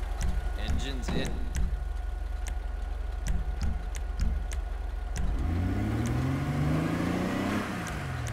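An Albany Primo's engine revs up in GTA 5 Online with a rising, then falling pitch, accompanied by sharp clicks and short tonal blips, over a steady low hum.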